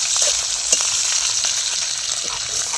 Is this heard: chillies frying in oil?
yes